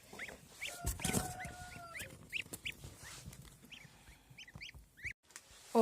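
Turkeys and geese calling in a yard, with scattered short clucks and honks from several birds, some closer and sharper, against quiet gaps.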